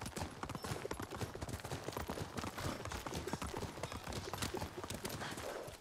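Horse hooves clip-clop steadily at a brisk gait throughout, close and fairly loud, from a horse in the samurai video game Ghost of Tsushima, with faint ambient game sounds behind.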